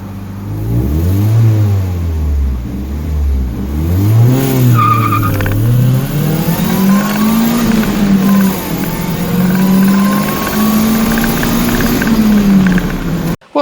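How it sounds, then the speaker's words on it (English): A supercharged Mazda Miata with a 1.6 engine and an M45 supercharger accelerates hard with wheel spin: the engine revs climb and drop through gear changes, then hold a loud, rising pull with a brief tire screech near the start of the run. "This time we had wheel spin."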